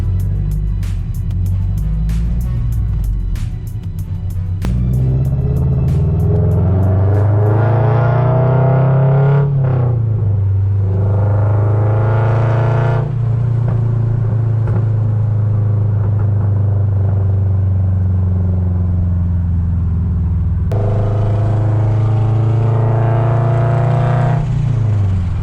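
Toyota GR86 sports car out on the road, engine rumbling loudly from inside the cabin, rising and falling with revs and gear changes, with a steady droning tone throughout and no talking.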